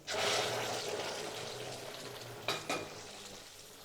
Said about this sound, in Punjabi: ਹੁਣ ਇਹਨੂੰ ਪਕਾ ਲਾਂਗੇ 5 ਮਿੰਟ ਚ ਟਮਾਟਰ ਪੱਕ ਜਾਏਗਾ